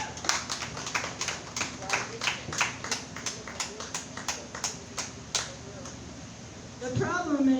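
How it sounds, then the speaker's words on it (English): Applause from a comedy show audience: a run of sharp, evenly spaced claps ringing out close and fairly loud, then giving way to a burst of voice at the end. "Some applause."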